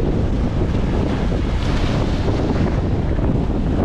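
Rough, constant roar of wind and surging sea water, loud and close, with gusts buffeting the microphone and no voices.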